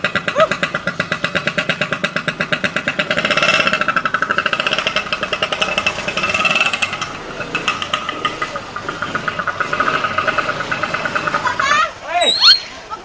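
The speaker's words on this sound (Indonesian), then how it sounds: "Wah, hirup sayang motor lagi." A motorcycle engine starts up and settles into a steady, pulsing idle, loud and close, with people talking over it.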